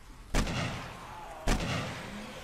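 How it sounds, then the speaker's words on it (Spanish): Two sharp, loud gunshots roughly a second apart in the video game 7 Days to Die (Starvation mod), each with a booming low thump and a decaying tail. "Son cuatro tiros"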